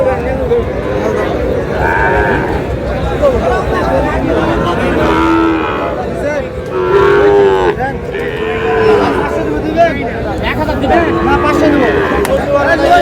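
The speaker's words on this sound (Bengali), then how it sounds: "শাহিওয়ালের বাচ্চা" Sahiwal bull calves moo repeatedly amid a steady hubbub of crowd chatter and voices, like a busy livestock market.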